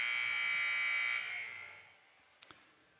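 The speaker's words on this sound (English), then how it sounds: "the buzzer will be going off here in just a bit as the clock's running down" An ice hockey arena buzzer at a girls' high school game blares loud and steady for about a second, then fades through the rink's echo, followed by a couple of faint knocks.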